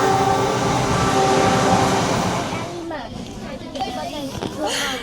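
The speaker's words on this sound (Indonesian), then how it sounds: "Ini kereta api Sancaka ke Jakarta." Sancaka passenger train bound for Jakarta rumbling past loudly and steadily at close range, then easing to a lighter clatter, with voices talking over it.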